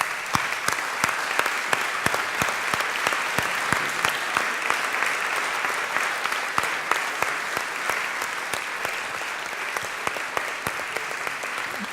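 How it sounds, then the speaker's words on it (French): A festival audience applauding steadily, with sharp individual claps standing out over a continuous wash of clapping that holds the same level throughout. "Dovete applaudirvi, continuate pure ad applaudirvi."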